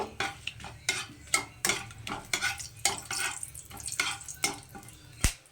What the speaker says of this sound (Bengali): তেল গরম হয়ে গেছে তো তেলের মধ্যে দিয়ে দিচ্ছি দুটো তেজপাতা দিয়ে দিচ্ছি কিছুটা গোটা গরম মশলা নিয়েছি